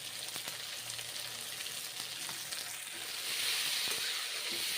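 Ridge gourd frying in a pan with turmeric and salt, a steady close sizzle with occasional stirring scrapes that swells louder toward the end.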